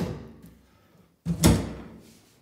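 An indoor apartment door is opened onto the kitchen: faint handling noise, a short pause, then a single close, solid clunk that fades quickly.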